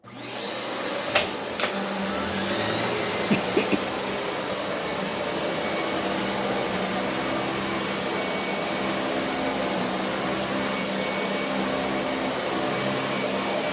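A Dyson Cinetic Big Ball upright vacuum cleaner whirs loudly and steadily at close range after a brief start-up, its motor drone constant throughout.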